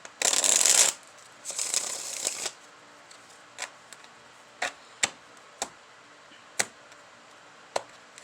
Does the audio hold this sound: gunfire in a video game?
no